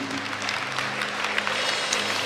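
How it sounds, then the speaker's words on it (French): A church congregation at a Sunday service claps together in a steady, dense burst of applause filling the room at moderate volume. "un applaudissement pour eux"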